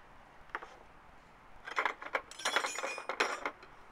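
Loose metal carburetor parts for a small Honda GX31 engine clink and rattle in a box, a few light taps early, then a denser burst of jangling clatter, fairly close with no talking.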